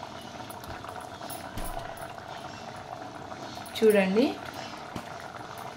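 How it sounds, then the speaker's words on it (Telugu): Broccoli curry simmering in a pot, a steady low bubbling that runs throughout, with a brief louder burst of bubbling near the end and a voice speaking over it. "మంచిగా ఉడుకుతుంది కదా."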